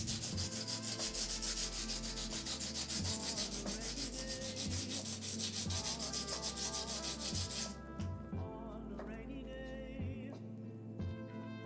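Sandpaper rubs steadily over a hard edge on a VAST60 R2 keyboard build, with continuous back-and-forth scraping up close for most of the stretch before the rubbing thins out and turns lighter near the end.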